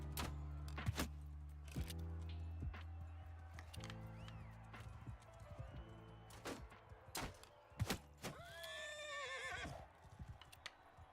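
Horses neigh in the medieval video game Mount & Blade Knightfall, a rising whinny near the end among a steady low engine-like drone, clip-clopping hooves and sharp clattering hits.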